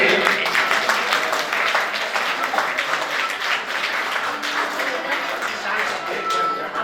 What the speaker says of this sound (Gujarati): તાળીઓથી આપણે વધાવીએ.